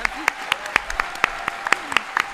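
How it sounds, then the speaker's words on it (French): Sparse applause for Brigitte, a handful of distinct claps spaced irregularly over a quiet background, with a faint voice underneath. "on peut l'applaudir"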